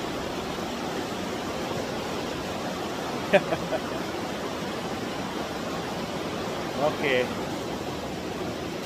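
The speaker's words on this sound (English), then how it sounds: "there we go, rapids in Wahpeton, North Dakota, along the Red River" Rapids on the Red River at Wahpeton, North Dakota, make a steady broadband rush of flowing water. A brief word and a couple of faint clicks break through the constant roar.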